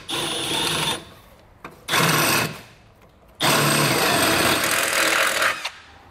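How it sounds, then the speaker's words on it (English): A 1/2 inch drill bit bores out and enlarges holes in the frame of a 2013 Ford Focus near the heat shield, heard as three bursts of loud, rough grinding with short pauses between, the last one running longest. "We'll now need to enlarge these holes using a 1/2 inch drill bit."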